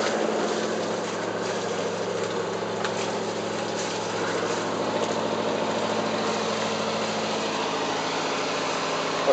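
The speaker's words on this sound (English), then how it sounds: "Letting the engine run. She's up to temp." A boat engine idles steadily while warming up to temperature during winterizing, a continuous even hum with no breaks and no voices.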